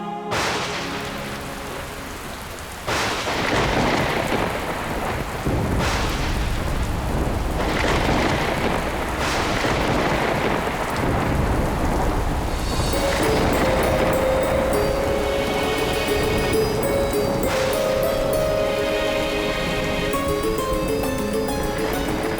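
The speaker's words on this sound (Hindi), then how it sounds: "ये वर्षा तो रुकने का नाम ही नहीं ले रही।" Heavy rain pours steadily in a thunderstorm, a dense, loud hiss throughout with several deep rolling thunder cracks breaking in, while a sustained musical tone rises in the background later on.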